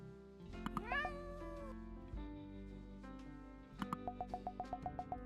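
A kitten meows repeatedly, with rising, drawn-out cries early on and then a quick rhythmic series of short meows, fairly close and clear over a low background.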